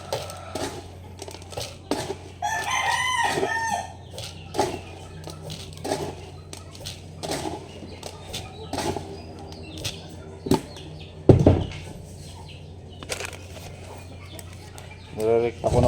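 Backyard hens and a rooster make scattered clucks and one brief crowing call amid clattering and rustling, while a person talks over much of it.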